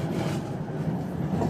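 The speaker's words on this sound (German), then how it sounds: "Die ganze Straßenbahn ruckelt." A continuous low rumbling rattle of a tram rolling over rails while track is being renewed, steady and fairly loud for the whole stretch.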